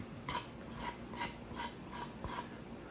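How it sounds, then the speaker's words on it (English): A small hacksaw blade in a printed handle scratches across a cured liquid membrane coating, a quiet series of five or six rasping strokes in a steady rhythm, close by and with no voices. "So I got this little hacksaw blade handle thing that I printed. And let's just do a little scratch."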